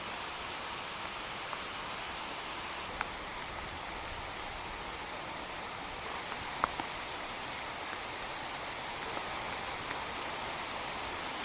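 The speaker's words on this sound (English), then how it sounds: "So a shower just came by, loads of rain and a bit of thunder also in the air." A passing rain shower makes a steady, soft, even hiss of falling rain outdoors, with a few faint drips and no talking.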